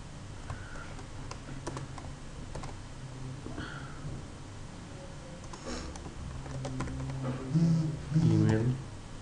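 Rapid, light clicking of a computer keyboard as code is typed, in bursts of close ticks beneath someone talking.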